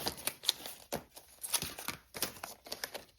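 Scissors cutting out a paper Ferris wheel for a beach boardwalk spinner card: rapid, irregular crisp snips and paper crinkles, close and fairly quiet, with no talking.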